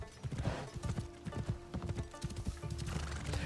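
A horse in the video game Assassin's Creed Shadows gallops with a rapid, uneven clatter of hooves and neighs over a sustained musical tone.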